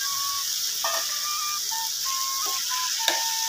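Chicken skin sizzles in a pan alongside eggplant, a steady close hiss of frying oil with occasional light scrapes and taps of a utensil stirring, no voices present.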